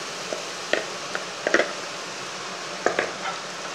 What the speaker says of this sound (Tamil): போட்டு நல்லா கிண்டி விடுங்க